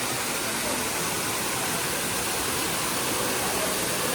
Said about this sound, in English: Never a shortage of waterfalls with Bass Pro, and I absolutely love it.